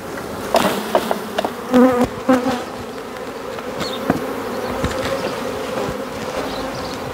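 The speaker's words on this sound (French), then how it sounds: "Donc je suis sûr de prendre des jeunes abeilles sans la reine." Honey bees in a nucleus hive buzz steadily at close range, a dense droning hum with a few louder passes of individual bees and faint handling knocks.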